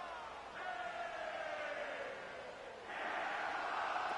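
A stadium crowd in an American football video game roars as a steady, distant wash of noise, with a louder swell near the end, while faint commentary plays over it.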